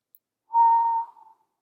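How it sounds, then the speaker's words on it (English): A single low whistle, steady and clear, sounds in a quiet corridor at night, holding about half a second before trailing off softly, alone with no talk. "I seemed to hear a low whistle"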